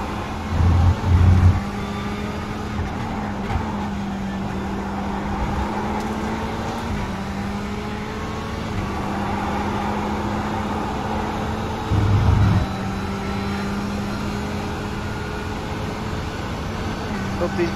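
Race car engine in the iRacing 24 Hours of Spa endurance race video game, a steady droning hum held at near-constant pitch with small shifts, plus a couple of brief louder bursts and faint talk now and then.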